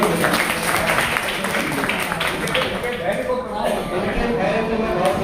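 An audience applauds at a student poetry gathering held for a communal harmony week's linguistic goodwill day; dense, steady clapping fills the whole stretch at moderate loudness with voices mixed in.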